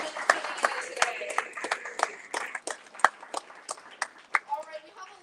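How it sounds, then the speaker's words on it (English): Scattered clapping from a small audience at a literary magazine launch event, sparse and uneven hand claps that thin out toward the end. "So give yourself a round of applause for coming out"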